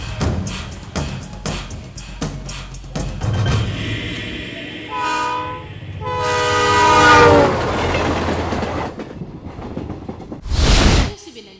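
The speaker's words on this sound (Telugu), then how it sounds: "గోదావరి ఎక్స్ప్రెస్ మరికొద్ది నిమిషములలో 2వ నెంబర్ ప్లాట్ఫామ్ లకు వచ్చు" Godavari Express, train number 2727 from Visakhapatnam to Hyderabad, pulls into platform 2 of a station with rhythmic wheel clatter and rumble, and two loud horn blasts sound midway and near the end.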